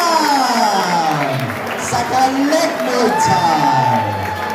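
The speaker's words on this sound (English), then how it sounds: "a round of applause for Chanchai taking this fight at last minute's notice" Crowd at a Muay Thai fight night on Koh Phangan applauding and cheering after a bout, with whoops rising above the clapping while an announcer speaks over the noise.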